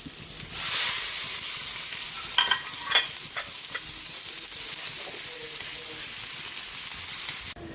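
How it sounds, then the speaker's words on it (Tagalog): Ground meat sautés for picadillo in a pan, giving a steady close sizzle with a few scraping stirs near the start and a constant frying hiss until it cuts off. "Nagisa na po yung ating giniling."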